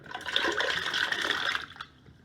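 Cut-up potatoes are poured into a pot of water, making a rushing, splashing pour for about a second and a half that then stops abruptly.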